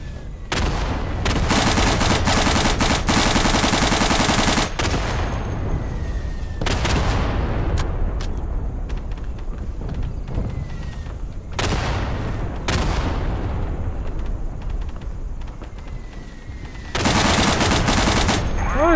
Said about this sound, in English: Why is the Tommy gun not as accurate as it used to be?